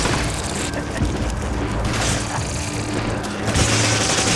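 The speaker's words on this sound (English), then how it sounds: "Stop fucking shooting it!" Rapid, dense gunfire from the video game Resident Evil 5 during co-op play, loud and continuous with overlapping bursts and booming impacts across the whole stretch.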